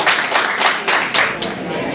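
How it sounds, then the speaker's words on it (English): A crowd at an evening networking event gives a brief, loud round of applause. Dense, close clapping comes in a few surging waves, welcoming a co-chair to speak. "Give him a round of applause"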